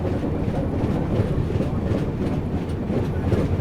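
Secunderabad–Nagpur Vande Bharat Express rumbling past at close range, a dense, loud, continuous roar of wheels and carriages with faint clatter and no pauses.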